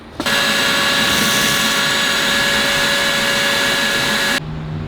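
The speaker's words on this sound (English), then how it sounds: "I'm gonna get the vacuum because that's crazy." A vacuum cleaner roars on loudly and steadily for several seconds while sucking leaves out of a BMW, with a constant high whine, then cuts off abruptly leaving a low hum.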